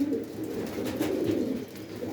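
Pigeons coo in low, throaty bursts, close by and steady throughout, with faint background rustle.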